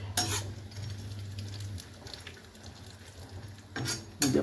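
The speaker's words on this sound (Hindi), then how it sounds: "इसमें फ्राई करेंगे अपने सारे ड्राई फ्रूट" Dry fruits fry in desi ghee in a kadhai, heard as a soft background sizzle broken by sharp metallic scrapes and clinks of a spoon against the pan near the start and again toward the end.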